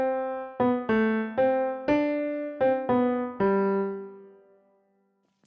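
Solo piano picks out the melody of All Through the Night, a slow single-note line of about nine clear, ringing notes, the final note held and left to decay into silence.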